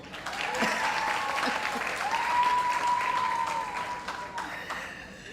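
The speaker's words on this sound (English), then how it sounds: "And you can clap me too." Audience applause at a performing arts awards ceremony, a sustained wash of clapping from a large crowd lasting several seconds, steady and fairly loud, with a whistle or cheer rising through the middle before it tapers off.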